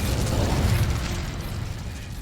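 A dense, roaring burst of fire from the Incendio spell igniting dry vines in Hogwarts Legacy, with a steady crackling whoosh that stays loud and continuous throughout.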